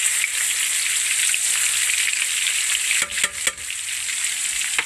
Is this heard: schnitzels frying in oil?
yes